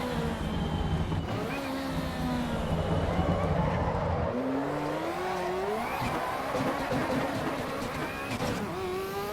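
A turbocharged car in the racing game Assetto Corsa EVO holds its revs against the limiter, the engine note bouncing and stuttering with turbo and wastegate blow-off chatter, loud and continuous throughout with no talking.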